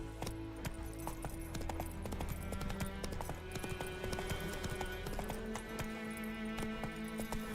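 Rhythmic hooves of Roach, a galloping horse in The Witcher 3 video game, pound steadily and close over a soft bed of game music, with no talking.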